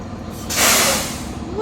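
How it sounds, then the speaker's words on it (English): A tow truck goes by close and loud on a wet street after days of rain, its hissing, air-brake-like rush swelling midway and fading slowly. "I think it's a tow truck."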